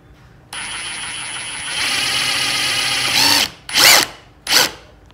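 A FAMAG countersink drill bit bores into wood: the drill spins up and whines steadily for a few seconds as it cuts, then gives two short, sharp bursts near the end.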